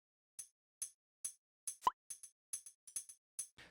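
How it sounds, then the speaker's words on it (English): Programmed tambourine in a swung pattern for a future UK garage drop, sounding as a steady run of short, bright jingle hits with uneven spacing and slightly varying loudness, with no other sound behind it. "So this is a swung tambourine that I just programmed in this MIDI pattern"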